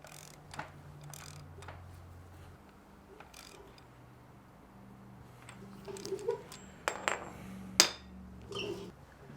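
A Ferrari 355 crankshaft is turned slowly by hand during timing belt tensioning, producing faint irregular mechanical ticks and clicks in a quiet workshop, with a few louder clacks near the end.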